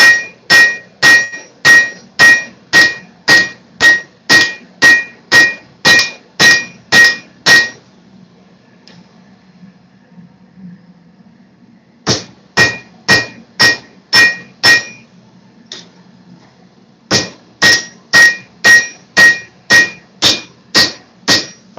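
Hand hammer striking hot metal during forging, sharp ringing blows in fast steady rhythm, three bursts of roughly fifteen, eight and nine strikes separated by quieter pauses, close and loud with no talk.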